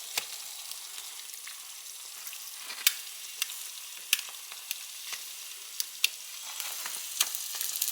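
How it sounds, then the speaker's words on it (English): Pancakes and an egg frying on a hot griddle, a steady soft sizzle with scattered sharp ticks and small clinks, fairly quiet and with no talking. "Now I'm going to attempt to turn these pancakes over and let the other side cook."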